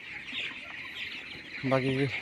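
On a poultry farm, a chicken gives one short, nearby cluck late on, heard against a constant high-pitched chirping background hum.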